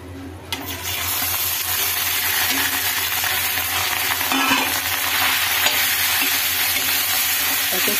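Potatoes fry in a hot pan with a loud, continuous sizzle and crackle that runs steadily throughout, with faint stirring noises underneath and no talking.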